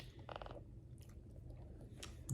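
Crunchy gingerbread-house candy being chewed close up, a few quiet crisp bites and soft mouth sounds with gaps between them and no talk.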